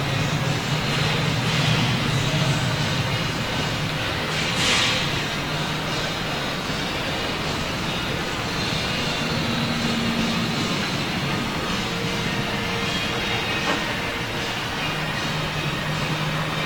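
An Aeromexico jet airliner on approach to LAX gives a steady, distant engine roar and whine that holds at a fairly even level throughout, with no talk over it.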